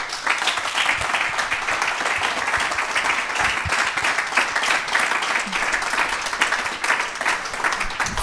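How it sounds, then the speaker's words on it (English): A conference audience at a tech innovation event claps steadily after a panel session, a dense, even round of applause that fills the whole stretch with no talking over it. "A very big applause."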